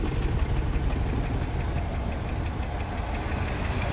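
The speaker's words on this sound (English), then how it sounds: "And it's quiet too, so those generic mufflers are doing their job." A 1967 Lincoln engine with a newly finished clamped exhaust and generic mufflers idles steadily, a low, even rumble that holds throughout without a break.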